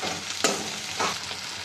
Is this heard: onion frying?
yes